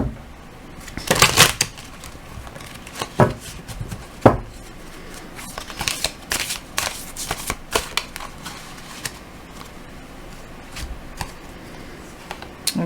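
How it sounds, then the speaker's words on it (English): Tarot cards are shuffled in quick bursts, giving close, crisp riffling and slapping sounds with brief pauses between runs. "Let me shuffle again."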